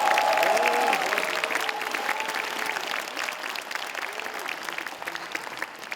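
Warm applause from a concert audience for a band at a year-end foundation event, steady clapping throughout with faint voices and cheering mixed in, slowly easing off.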